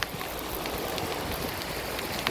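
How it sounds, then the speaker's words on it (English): Steady, dense heavy rain at Fort Myers Beach, Florida, hisses without a break, a constant wash of drops with a few louder splashes standing out. "We must have had about 3 inches of rain in the last 5 minutes."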